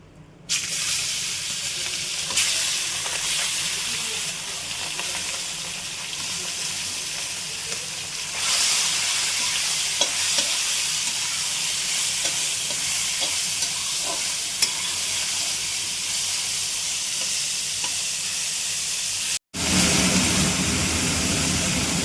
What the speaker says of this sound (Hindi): सभी मसाले हमारे अच्छे से फ्राई हो गए हैं और अब हम प्रॉन्स ऐड करेंगे।